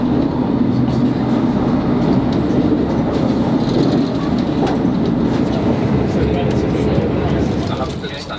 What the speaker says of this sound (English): a Thames Link train is just whizzing by there